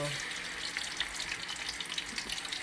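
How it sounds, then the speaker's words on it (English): Fish frying in oil not yet fully hot, a soft steady crackle and bubbling sizzle heard close and unbroken, with no voice over it. "I'm just gonna let it fry."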